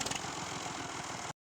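A farm tractor engine, in use since 1980, runs loud and close with a steady chugging idle and a regular pulsing rhythm, then cuts off abruptly.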